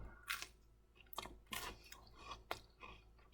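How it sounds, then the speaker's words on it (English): Close, crisp chewing of a reheated leftover burger, several crunchy bites and mastication sounds at irregular intervals, alone without talk. "And you can even hear the crunch of the bun."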